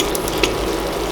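Canned chickpeas tipped into a pan of chicken curry, the mixture sizzling and frying steadily up close with a brief stirring clatter, no voices.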